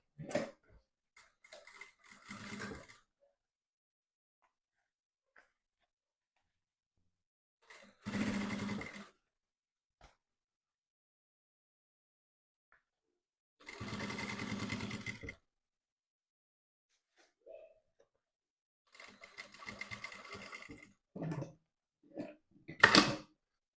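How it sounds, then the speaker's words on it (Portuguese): Sewing machine stitching the fabric lining of a triple toiletry bag with a half-centimetre seam allowance, running in several separate bursts of a few seconds each with pauses between, close and moderately loud. "E vamos costurar com margem de meio centímetro."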